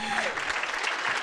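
An audience at a business talk gives a short burst of dense clapping, with a faint voice mixed in.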